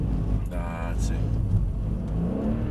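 Car engine revving while driving, a steady mid-pitched hum rising slightly under throttle, close and constant, with a person talking over it.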